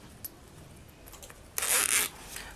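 A zipper slider being fitted onto the zipper of a child's backpack, with a few faint clicks followed by one short, bright zipping rasp near the end, close and quiet.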